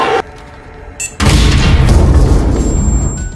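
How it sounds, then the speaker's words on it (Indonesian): A film explosion at an aircraft door bursts in as a loud, deep boom after a short quiet gap, with a heavy rumbling roar that lingers to the end. "Dengan ledakan di pintu pesawat, Elias berhasil membuat si Psycho tak berday"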